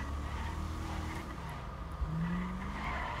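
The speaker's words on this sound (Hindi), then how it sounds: "बड़ी जोरदार गाड़ी यार, क्या आवाज़ है इसकी।" A powerful car in GTA V revs hard and its tires skid and squeal across about three seconds, a loud continuous engine roar with a rising screech near the end, with no voices.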